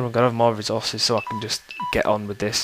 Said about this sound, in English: that is my phone telling me it's on low battery